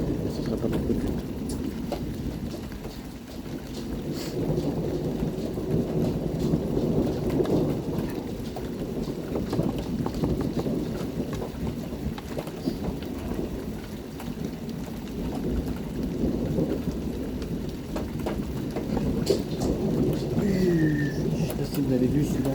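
Hailstorm with thunder and rain, a steady dense patter of precipitation and low rumbling thunder throughout, while a person talks over it intermittently.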